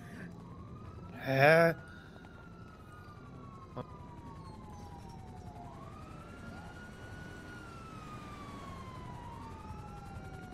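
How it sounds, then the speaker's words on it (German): Police sirens wail in the GTA roleplay game Unity-Life, several distant rising and falling tones overlapping under a steady background hum, with a brief loud voice near the start. "ich hör immer mehr Sirenen"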